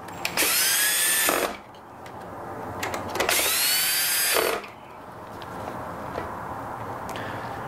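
Screws are driven into the casing of a Vario coffee grinder in two loud bursts of about a second each, clearly a power screwdriver, with a quieter pause between them and no talking.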